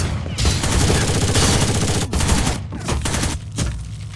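Dense rapid gunfire crackles loud and close in Rainbow Six Vegas 2 at a train station, a sustained fusillade of overlapping shots with brief dips, no clear speech.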